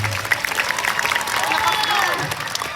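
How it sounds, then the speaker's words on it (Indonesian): Applause and cheering from a school audience at an Islamic preaching event for young students, mixed with overlapping voices and a loud crowd hubbub. "Tepuk tangan."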